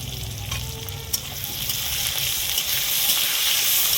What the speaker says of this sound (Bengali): দেখো, এখানে মাংস রান্নার জন্য পেঁয়াজ দেওয়া হয়ে গেছে। পেঁয়াজ ভাজা হলে